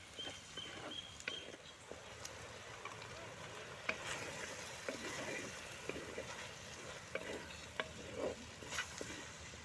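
Prawn thokku fries in a pan with pepper powder, a faint continuous sizzle broken by light scraping stirs throughout, with no talking.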